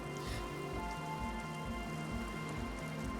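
Rain patters in the video game Disco Elysium, a soft continuous spatter layered over a low, rhythmically pulsing music bed, quiet and steady throughout.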